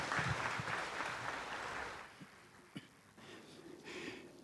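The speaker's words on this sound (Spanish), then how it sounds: "con un fuerte aplauso" A church congregation's applause at a Mass fills the first two seconds, then fades to scattered claps and quiet rustling.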